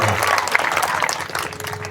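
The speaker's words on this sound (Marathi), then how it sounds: "एकदा टाळ्या वाजवा दोन्हीसाठी" Audience applause at a religious discourse, a dense, steady burst of many hands clapping together for about two seconds, loud and close, with a faint voice underneath.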